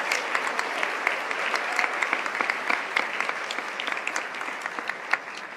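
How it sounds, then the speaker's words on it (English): Steady round of applause from attendees at a community breakfast, many hands clapping together at moderate volume for several seconds with scattered sharper claps. "So if you could give them a big round of applause to bring this together."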